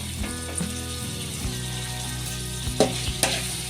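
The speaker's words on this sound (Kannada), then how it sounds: "ಈಗ ಮೆಂತ್ಯ ಸೊಪ್ಪು ಹಾಕ್ಕೊಂಡು ಅದನ್ನು ಕೂಡ ಫ್ರೈ ಮಾಡ್ಕೋಬೇಕು." Fenugreek leaves frying with capsicum in a pan for egg rice, a soft steady sizzle over low flame with a few clinks and scrapes of stirring.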